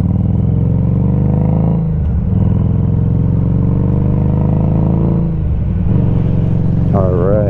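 Motorcycle engine with an aftermarket muffler on a street test ride, loud and close, a steady low exhaust rumble with brief dips where the throttle eases before rising again.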